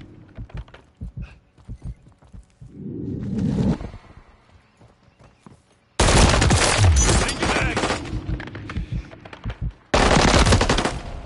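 Automatic gunfire in Modern Warfare III on PS5: scattered single shots and short taps, then two long, loud, sustained bursts of rapid fire, close and dominant.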